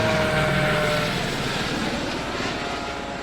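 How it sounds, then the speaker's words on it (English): A loud, steady helicopter drone with a broad rushing roar, holding close overhead and fading slightly toward the end. "Here comes a helicopter."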